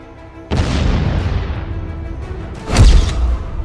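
A sudden heavy blast of a drone's 150-kilogram warhead bursts in after a short quiet, rumbling and decaying, then a second deep boom hits near the end. Loud and close, with no voices.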